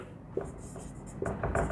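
Pen or marker strokes writing out a maths equation for a Class 10 NCERT real numbers lesson, a few short scratchy bursts close by with a quiet pause between them.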